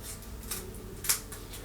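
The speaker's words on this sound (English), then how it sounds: "I'm gonna cut this into two" Scissors cut a wax strip for eyebrow waxing in two. Several crisp snips sound close up over a faint background hum.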